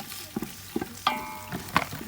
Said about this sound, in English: we're going to stir and mix the all ingredients together